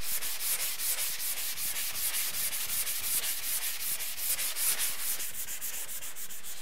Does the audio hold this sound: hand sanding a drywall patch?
yes